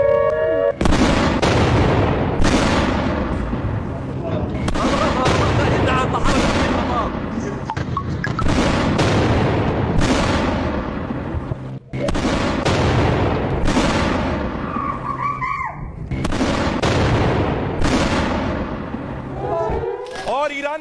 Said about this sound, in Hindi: पटाखे छोड़े जा रहे थे, आतिशबाजी हो रही थी ईरान में।